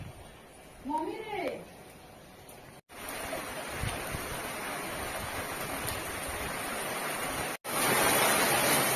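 Heavy monsoon rain pours steadily in a rural setting, a dense, loud broadband hiss that fills the scene without a break, with a brief voice-like sweep near the start.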